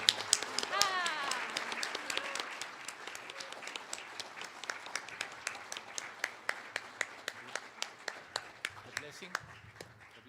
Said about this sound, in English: Y desde esa alegría vamos a aplaudir.